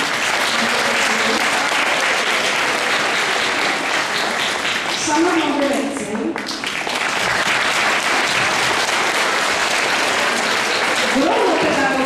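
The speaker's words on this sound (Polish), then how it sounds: "też oklaski." Applause from an audience at a school Easter event, a constant loud wash of clapping throughout, with someone speaking into a microphone over it.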